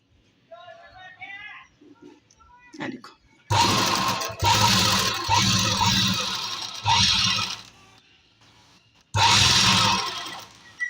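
A sewing machine stitches along a marked line on salwar fabric, its loud whirring running in several long bursts separated by short pauses, with a voice briefly heard before the stitching starts.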